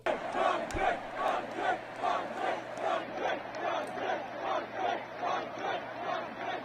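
A large concert crowd at an Amsterdam show chants in loud, rhythmic unison, the massed voices rising and falling in a steady pulse of roughly two beats per second.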